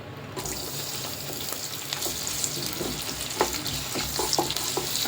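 Chopped onion frying in a few spoons of oil in a kadai, with a steady hissing sizzle and occasional spatula scrapes and taps, close and even throughout.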